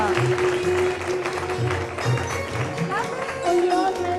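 A studio audience at a morning TV show birthday celebration for a young girl claps in a short burst, with a host's voice talking over the applause.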